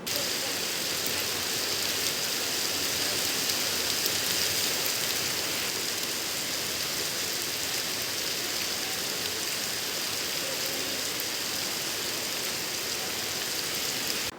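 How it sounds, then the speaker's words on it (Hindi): Heavy rain pours down steadily in Gorakhpur during the hot, humid early summer, a dense, constant hiss of falling water that stays loud and unbroken throughout with no voices. "उमस भरी इस गर्मी से लोगों को बारिश होने से बड़ी राहत मिली है।"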